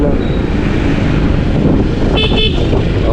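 A motorcycle horn on a ride toward Batangas City sounds two short, bright toots near the end. Heavy wind buffeting and road noise from riding run underneath throughout.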